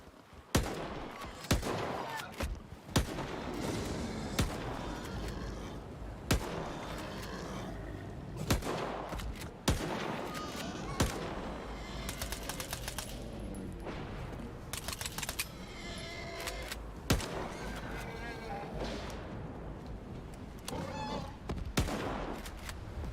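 Rapid bursts of gunfire crack repeatedly as mutants are shot in STALKER 2 with a hardcore ranger mod, dense overlapping shots and impacts sounding loud and sustained over a busy game soundscape.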